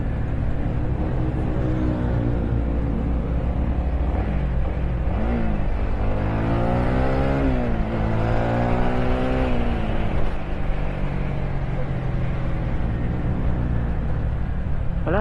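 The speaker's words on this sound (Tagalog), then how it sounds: "Traffic na naman. Ang traffic naman dito sa Doong Hore." Road traffic heard from inside a moving vehicle: a steady low engine rumble with cars passing close by and revving, one louder vehicle sweeping past midway, with no talk.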